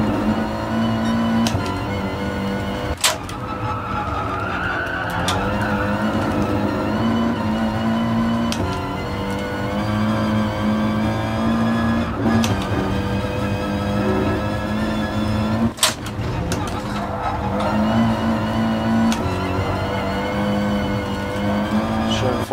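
An Audi TT Cup race car flat out on the Nürburgring Nordschleife in GT Sport, its engine droning loud and steady with rising pitch through the gears and brief shift breaks. Someone talks over the engine.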